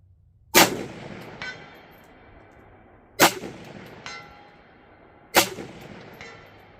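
Three rifle shots ring out a few seconds apart, each followed a moment later by a faint metallic ring from a steel target hit at 200 yards, with quiet pauses between them.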